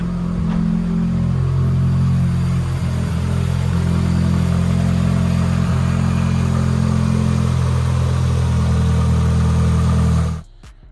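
A fully built 2.2L Mitsubishi Evo 9 engine runs steadily after a coil pack fix, a loud, close, even drone with slight rev swells, cutting off abruptly near the end.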